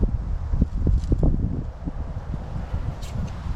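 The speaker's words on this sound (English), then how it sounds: "I apologize for the wind" Gusty wind buffeting an outdoor microphone beside an abandoned 1996 Ford F250 7.3 Powerstroke diesel pickup, a steady low rumble with irregular thumping bursts and faint rustling throughout.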